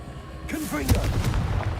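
A Confringo blast spell goes off in a wizard video game, landing as a sharp explosive boom followed by a rumbling, crackling tail, fairly loud and close.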